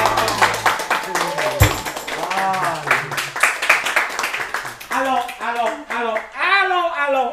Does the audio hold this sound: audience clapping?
yes